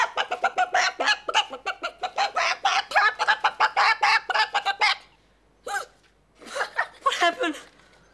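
A hypnotised person imitates a clucking chicken with rapid rhythmic bursts of throaty clucks, loud and close, then a few squawks and laughing sounds after a pause.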